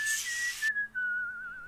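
A character whistles a short, wavering melody in the video game West of Loathing, clear and close, partly over a hiss of background noise that cuts off midway.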